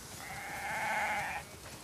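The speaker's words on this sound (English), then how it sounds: "We definitely have way too many sheep." A single sustained sheep bleat from the video game The Last of Us Part II, moderately loud and close, holding steady for over a second before cutting off, with no talk over it.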